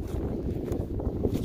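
Wind blows at a frozen lake as a steady, low roar buffeting the microphone, continuous and fairly loud with no voices.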